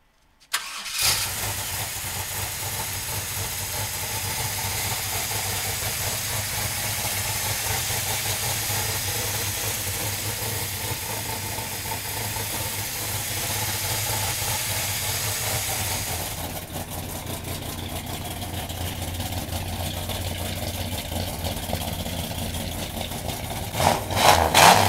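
A 1955 Chevrolet Bel Air V8 cranks and fires, then settles into a steady, loud idle with a rough burble that holds for about twenty seconds and rises briefly near the end.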